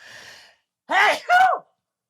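A sharp inhale followed by two quick, forceful sneezes at close range, loud and abrupt, after a brief soft breathy sound.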